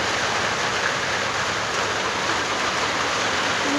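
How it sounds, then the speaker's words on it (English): Heavy rain from a rainstorm pours down in a dense, steady hiss, loud and close throughout, with no voices. "It's literally raining."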